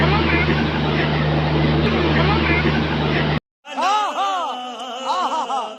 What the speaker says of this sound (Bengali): ট্রেনটার মধ্যে গাইজ হেলিকপ্টারের ইঞ্জিন লাগানো আছে গাইজ